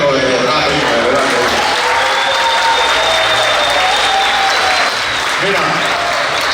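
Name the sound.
audience applauding in a nightclub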